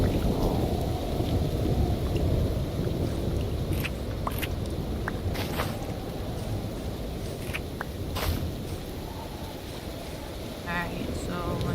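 Steady heavy rain from a thunderstorm in the World of Warcraft game world, a dense continuous hiss with a low rumbling bed, occasional sharp drop-like ticks and brief brighter crackles scattered throughout, no voices.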